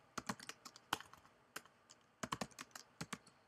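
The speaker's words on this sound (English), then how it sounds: "I will type in Google." Keystrokes on a computer keyboard come in quick, irregular bursts of sharp clicks with short pauses between them, fairly close and alone with no talk.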